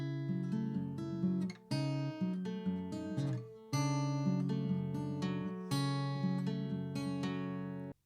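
Fingerpicked acoustic guitar playing the chord pattern of a song, with plucked notes ringing in a steady rhythmic flow, moderately soft and close, alone without any voice.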